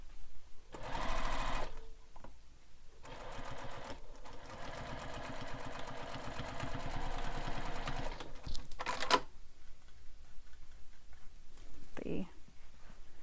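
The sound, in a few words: sewing machine backstitching a bowler bag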